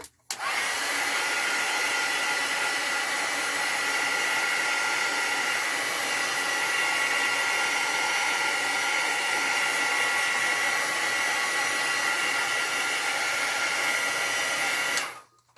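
A hair dryer blows air over a freshly painted daily journal page, a steady loud whoosh that switches on, runs unbroken for about fifteen seconds and cuts off.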